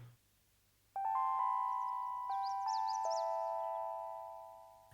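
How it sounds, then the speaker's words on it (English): A Tau UNO-LX 23 Celesta synth patch from a Juno factory bank with auto pan, playing a few bright, bell-like chime notes that ring and overlap, then slowly fade, clear and alone over a quiet background. "you have the Tau UNO-LX 23 Celesta from the Juno factory bank"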